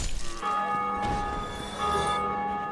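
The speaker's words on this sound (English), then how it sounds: "Yeah, and that bell's still going off." Bell tolling in Dark Souls Remastered, a sustained ringing tone with lingering overtones, moderately loud and carrying on without a break, no speech over it.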